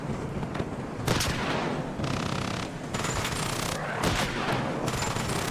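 T-72 tank cannon and machine gun fire in the Armored Brigade II war game, sped up, delivers a dense run of booming shots and rapid bursts over a constant roar of battle, loud and close throughout.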